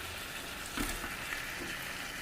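Chicken going into a pot for biryani, a steady, soft sizzle of frying with a faint clatter as pieces drop in. Fairly quiet throughout, with no voices.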